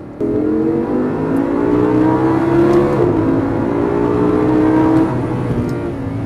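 Audi R8 supercar engine revving hard inside a tunnel, a loud continuous roar rising and falling in pitch over several seconds with echoing reverberation, no voices.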